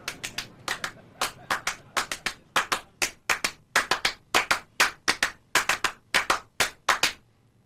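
Hands clap out a performance of a 1972 piece, with steady, tightly interlocking rhythmic claps in dense repeating patterns, crisp and close throughout.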